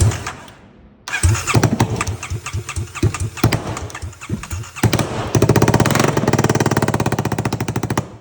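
A 2018 Kawasaki KLX 250 motorcycle that had sat in a garage starts after a short silence. The single-cylinder engine sputters up unevenly, then holds a loud, rapid, steady idle close by.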